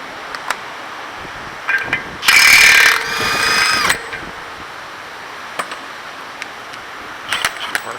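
Ratchet fitted with a 36mm socket on the CV axle nut of a 2015 Honda Pilot, front passenger side, giving a loud burst of rapid clicking in the middle, set between scattered metallic taps and clanks in a quiet workspace.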